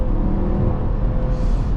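Low, steady drivetrain drone and road rumble inside a 2024 Dodge Durango R/T while driving, a loud continuous hum with slight whine, no talking.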